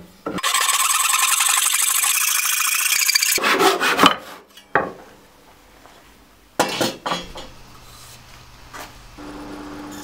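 Power saw cutting excess wood off a guitar neck blank, a loud sustained whine for a few seconds, then rubbing, scraping and clattering handling noises with quiet gaps.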